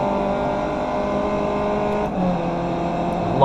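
A race car in the iRacing sim at Circuit Park Zandvoort, its engine droning loud and constant with a steady high whine, a brief dip as it shifts before the revs climb again; no talk.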